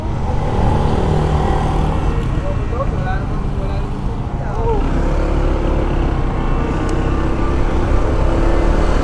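Honda scooter riding along a road near Laiya Aplaya, San Juan, Batangas, a steady loud engine drone mixed with wind and road rumble throughout, with people talking over it.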